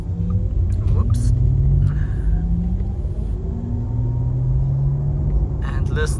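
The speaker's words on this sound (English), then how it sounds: "listen to the sound of the Taycan" A Porsche Taycan 4S electric car drives on a rally route, a steady low road rumble with a rising and falling electric motor whine heard from inside the cabin, voices speaking softly over it.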